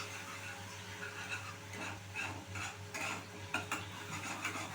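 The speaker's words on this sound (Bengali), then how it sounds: "আবারও মশলাটা খুব ভালো করে মিশিয়ে নিচ্ছি, মানে একটু ফ্রাই করে নিচ্ছি।" Spice paste with turmeric stirred and fried in a pan for katla srikhonjhi, a soft sizzle under intermittent scraping strokes of a spoon, quiet and close with a steady low hum behind.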